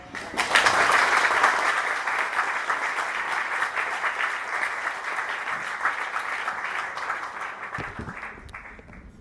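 After a keynote presentation, a live audience bursts into sustained applause, a thick, even wash of many clapping hands that swells early and tapers off near the end.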